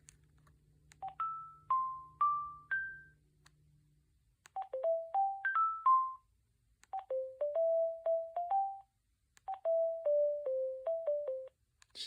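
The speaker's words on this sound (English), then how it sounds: "Jeez, these ringtones are not the most interesting." Synthesized ringtone melodies from an AT&T E6014B color-display cordless phone, heard as three separate short tune phrases of stepped electronic tones with brief gaps between them, clear and close, with no talking.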